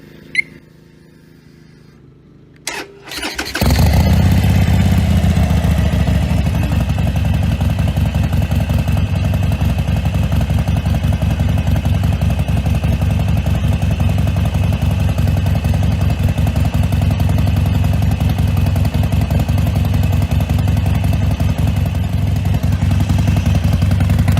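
A Harley-Davidson Forty-Eight motorcycle starts and settles into a loud, steady warm-up idle close by. The engine runs continuously and evenly, with a deep rumble and no talk.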